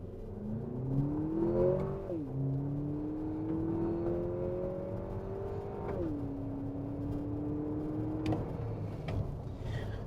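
A 2025 Lexus TX 350 F Sport AWD launching hard from a brake-boost start, its engine rising steadily in pitch through successive gear shifts, heard from inside the cabin at moderate volume.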